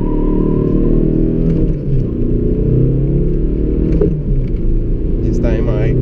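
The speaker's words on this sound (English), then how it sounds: "I'll try one more time acceleration" A remapped 2000s Audi A3 1.9 TDI (8L, 90 hp tuned toward 155 hp) accelerates hard from a standstill, a loud steady diesel engine drone heard from inside the cabin with shifts in pitch, with brief voices over it.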